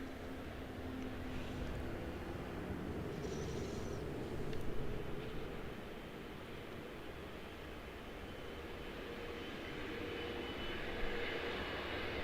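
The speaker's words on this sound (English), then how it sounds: "This is a 777-2 out of London Heathrow" A Boeing 777-200 airliner from London Heathrow at Charlotte airport, heard as a steady, distant roar of jet engines that swells slightly midway and then holds a broad, even rumble throughout.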